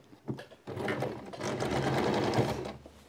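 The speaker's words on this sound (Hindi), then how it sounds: "तो इतना सा ये करके पहले उल्टे साइड से हम इसे सिलेंगे।" A sewing machine stitches a Pahadi ghagra from the reverse side at the waist, starting with a few short bursts, then running in a fast, continuous whirring chatter, close and clear.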